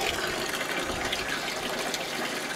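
Water draining from a Keystone Outback 230RS camper trailer into a bucket outside, a steady close gushing pour that holds constant and moderately loud for the whole stretch, with no voices.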